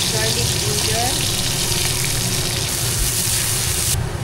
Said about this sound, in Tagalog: Next naman, fry natin ang onion.